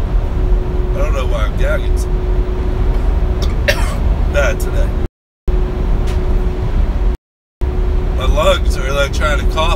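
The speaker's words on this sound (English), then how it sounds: "like trying to cough all that shit up" A person coughs and clears their throat several times in short bursts over a steady low hum, with brief dropouts of silence.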